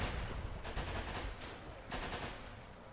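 Gunfire in the war game Running With Rifles, set in the Pacific Theater, comes as dense rattling bursts of automatic fire, two main volleys with steady noisy combat background, moderately loud and with no voice over it.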